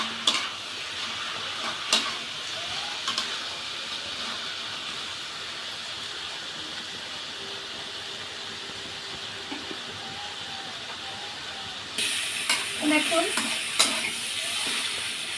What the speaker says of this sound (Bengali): এবার দিয়ে দেবো, সুন্দর করে আস্তে আস্তে ভাজা ভাজাটা করবো